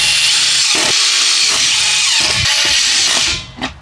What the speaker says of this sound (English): Obviously used the impact driver